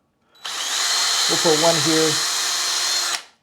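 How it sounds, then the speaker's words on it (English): A power drill bores screw holes into a Tilt-Mod vPin controller, a steady close whine running for about three seconds, with a brief spoken word partway through. "I'm just going to drill"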